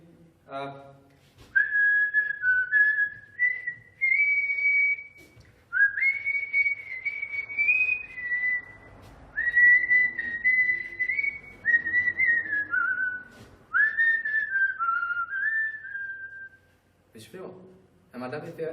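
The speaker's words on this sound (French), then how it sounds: "Hier, mais aujourd'hui, on peut siffler." A person whistles a wavering melody in long phrases, clear and close, with short breaths between phrases and a brief voice at the start and end.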